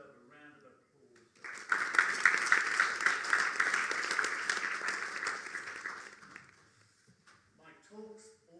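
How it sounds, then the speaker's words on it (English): Applause from a seated audience for children at a Christmas devotional singing gathering, rising suddenly after brief talk, sustained and fairly loud for about four seconds, then fading as a voice resumes. "And I think they deserve a round of applause."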